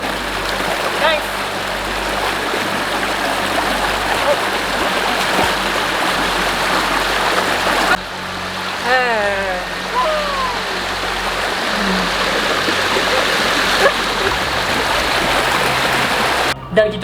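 A jungle river flows in a steady, loud, close rushing wash of water, with bird calls briefly chirping over it midway.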